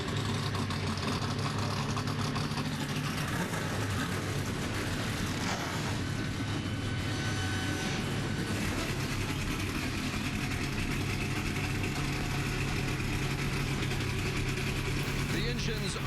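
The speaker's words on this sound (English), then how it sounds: "Engines are fired." NASCAR Camping World Truck Series trucks fire up and idle together at Dover in 2016, a dense, steady engine rumble and roar under continuous commentary and crowd noise.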